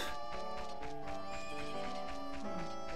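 Horses neigh and whinny with hoofbeats in The Legend of Zelda: Ocarina of Time, layered over dense game music. The whinnies are steady and fairly loud, with a descending neigh near the end.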